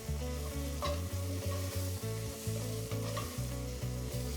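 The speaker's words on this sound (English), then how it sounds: "I'm going to let the flour cook for about 30 seconds longer to really cook out that floury taste." Flour sizzles and is stirred in a de Buyer copper pan, a continuous close frying hiss broken by regular scraping strokes roughly every half second, with no talk.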